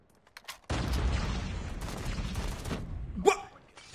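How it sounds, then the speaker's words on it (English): Gunfire burst in the Call of Duty video game, a sudden loud blast that rolls into sustained shooting and crackle for about two seconds, ending with a short sharp effect. "Oh, he had a shotgun."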